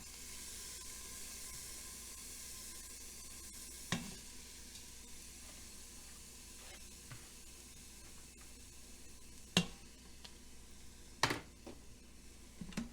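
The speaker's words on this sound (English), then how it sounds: "I am going to let that saute for about 2 or 3 minutes until it starts getting" Onion and celery sauté in melted butter inside an Instant Pot, a soft, steady sizzle and hiss broken by a few brief clinks and stirring scrapes, heard close with no voices.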